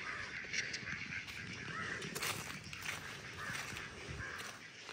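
Ducks at a small garden pond behind a French-style bungalow in Pondicherry give a rapid run of loud, close quacks and honks that carry through the whole stretch.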